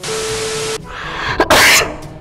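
A person coughs indoors. After a sustained hiss, two short, sharp, close coughs sound in quick succession.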